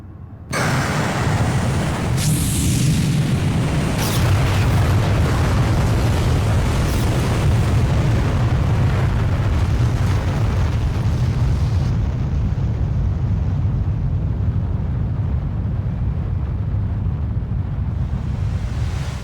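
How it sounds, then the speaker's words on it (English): A massive, sustained explosion from the ending cutscene of a PlayStation JRPG, an initial blast followed by a long, loud roaring rumble with deep low-end boom and crackling debris that keeps going without fading. "And it all ends with a final explosion"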